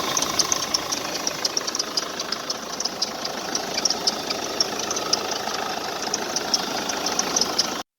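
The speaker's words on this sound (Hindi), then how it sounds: "अब इसका गाड़ी का इंजन का आवाज़ सुना दे रहे हैं" Car engine idling steadily with a knocking fault, in a car that shows check-engine and scanner power-supply trouble with codes B10A2 and B10A3, a continuous mid-level rumble with a faint repeated tapping throughout, then cutting off at the end.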